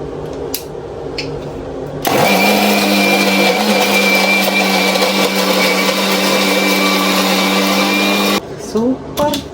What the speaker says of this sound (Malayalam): ഇപ്പൊ തണുത്ത് കിട്ടിയപ്പോ അതിനി നേരെ മിക്സിയിലിടുന്നു.